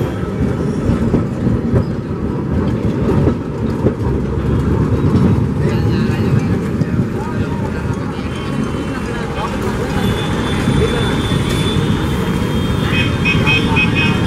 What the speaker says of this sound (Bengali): এই হচ্ছে ট্রাম গাড়ি।